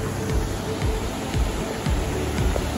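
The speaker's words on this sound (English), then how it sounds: "And over there to my left is the waterfall." Sensation Gorge Falls pours down into a steep river gorge, a broad continuous rush of water heard from nearby with low rumbling surges.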